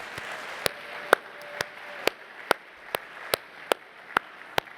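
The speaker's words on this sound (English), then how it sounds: "You all preempted me with my request for a round of applause" A dinner audience at a Miami awards program gives a sparse round of applause, a few distinct hand claps ringing out in a slow uneven rhythm over faint room murmur.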